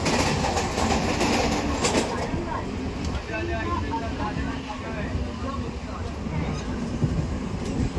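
Steady loud rumble and rattle of a moving passenger train heading to Naihati, heard from inside the carriage, with continuous wheel clatter and faint voices mixed in.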